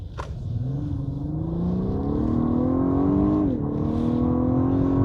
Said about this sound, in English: when it changes into that second gear, the car just feels like it rises up and just scoots